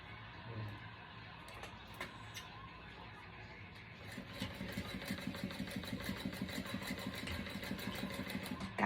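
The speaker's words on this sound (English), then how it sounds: "I am sewing the shit out of this lining." A sewing machine stitches the lining of a small zipper pouch. Its rapid, rhythmic motor hum quietly speeds up into a steady run partway through.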